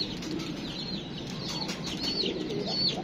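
Flapping wings of a pigeon, a short flurry of soft rapid beats close by, with faint chirps over a steady background hum.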